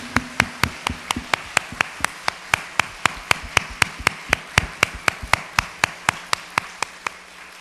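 A church congregation at an Easter service claps steadily, about four crisp claps per second for several seconds in a tight, even rhythm, close and clear with no talking.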